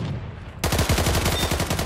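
Automatic machine gun fire in the World War II shooter game Days of War, a rapid sustained burst of loud, evenly spaced shots starting abruptly after a quiet moment and continuing to the end.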